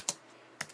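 Two crisp keystrokes on a computer keyboard while entering code, a sharp pair of clicks about half a second apart with a faint tap between, close and quiet with no talking.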